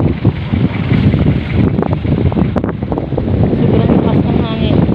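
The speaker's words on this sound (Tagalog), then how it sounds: "sobrang lakas ng hangin." Strong wind buffets the microphone steadily beside Laguna de Bay at Bagumbayan, Taguig, a loud continuous roar with possible water movement underneath, and a voice talks over it.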